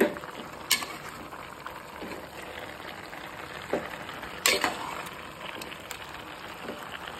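Chicken gravy bubbling and sizzling softly in a pan on the stove, with occasional sharper scrapes and clatters as it is stirred, heard alone at a moderate distance.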